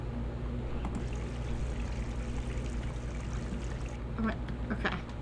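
Water pours and trickles onto the floor in the video game Gone Home, a steady low wash that runs throughout at moderate level, with a few faint clicks near the end.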